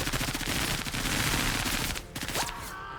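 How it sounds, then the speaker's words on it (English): Sustained automatic gunfire in the tactical video game Menace, a dense rattling burst of rapid shots lasting two seconds, then a brief gap and a few more clattering shots and a ringing tail. "I think we just need to shoot them with Carta"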